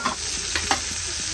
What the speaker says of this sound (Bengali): প্রথমে চাউমিনটা দিই, তারপরে ডিমটা দিই। ঠিক আছে, যে চাউমিনটা দিচ্ছি